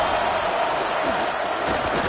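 Stadium crowd noise in a football video game, a dense steady roar of cheering on a big third down, loud and continuous for a couple of seconds without clear voices on top.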